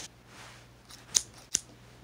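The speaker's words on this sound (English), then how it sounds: "I'm gonna get scissors." Scissors snip twice at a Lego Dimensions Bart Simpson pack, two sharp, close metallic cuts about half a second apart over a quiet room background.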